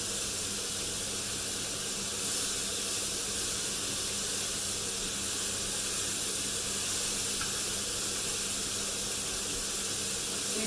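Homemade burgers fry in a pan with a steady, even sizzle and hiss that stays constant throughout, close and fairly loud, with no talking.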